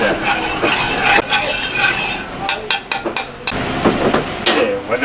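Ginger and shoyu being mixed in a pan, with metal utensils clinking and scraping against the pan in irregular bursts, loud and close, with a few sharp clacks partway through.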